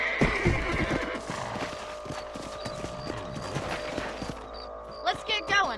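A horse in the video game Red Dead Redemption whinnies loudly near the start, with steady clip-clopping hooves throughout and a few more snorts and neighs toward the end.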